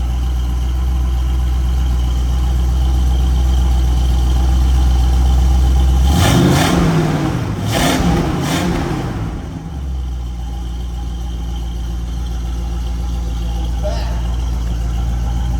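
A loud, deep 1973 Pontiac Trans Am engine, recently flooded with salt water, idles close by, then revs sharply twice in quick bursts before settling back to a rumbling idle.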